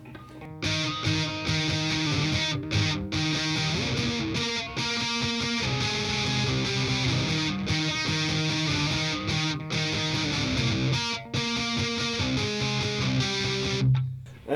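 Distorted electric guitar plays octave chords on the 2nd and 4th strings, a steady driving rhythm with brief choked gaps between phrases, loud and close with no voice over it.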